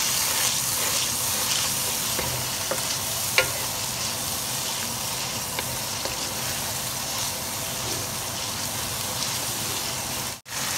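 Spices such as coriander powder and cumin sizzle and fry in a pan over medium heat while being stirred, a steady close crackle with occasional scrape taps and no talking.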